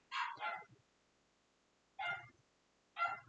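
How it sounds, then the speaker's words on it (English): Dogs bark indoors in short sharp bursts: a quick double bark, then two single barks after pauses, fairly close but not loud, with quiet in between. "the dogs are going crazy"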